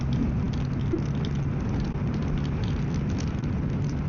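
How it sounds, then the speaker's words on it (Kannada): Heavy rain during a summer motorcycle ride to Gokarna makes a dense, steady hiss that blends with wind and road rumble, with no voices. "ಓ, ಇಲ್ಲಿ ಸ್ವಲ್ಪ ಜೋರಿದೆ ಮಳೆ."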